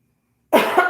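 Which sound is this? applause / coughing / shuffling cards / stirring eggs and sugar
coughing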